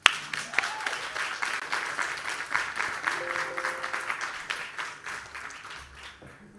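An audience at a COP26 ocean-protection event gives a round of applause as a speaker is welcomed to the stage; many hands clap steadily at moderate distance, swelling early and then tapering off toward the end.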